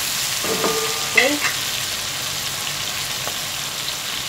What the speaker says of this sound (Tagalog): Hintayin natin siya matusta yung mga ingredients.